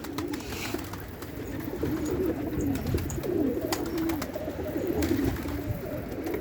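Pigeons in a backyard flock coo steadily on a sunny evening, a continuous low overlapping murmur from several birds nearby, with no voices.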